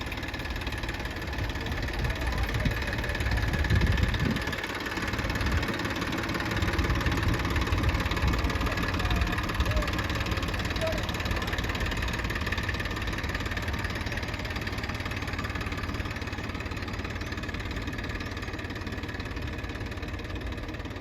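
Tractor engine idling in a farm field, a steady low rumbling throb with a slight knocking pulse, close and continuous for the whole stretch with no voices.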